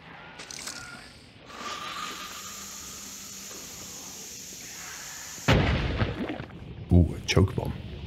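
A choke bomb in the shooter game Hunt: Showdown bursts with a loud pop and a spreading hiss, then a few sharper cracks follow, after a quieter stretch of steady hissing ambience.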